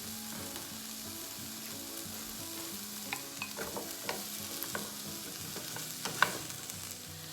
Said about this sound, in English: And then I'm gonna add the meatballs.